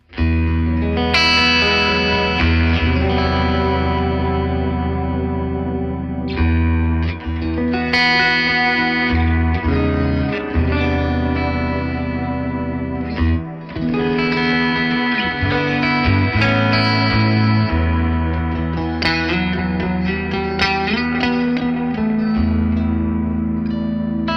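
Electric guitar through a Peavey Invective 120 amplifier playing sustained chords and notes, drenched in delay and reverb, with echoing repeats trailing each phrase; loud and continuous, no voices.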